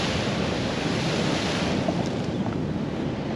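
Large sea swell waves crash and wash over rock platforms at Ogmore by Sea, a loud, continuous roar of surf mixed with heavy wind buffeting the microphone.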